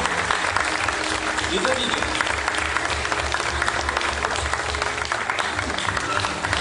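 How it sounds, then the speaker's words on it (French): A theatre crowd at a grand variety show in Saint-Just-en-Chaussée claps loudly and continuously, a dense roar of hands with a few scattered shouts, while someone speaks briefly over the applause. "On peut applaudir très fort, attention."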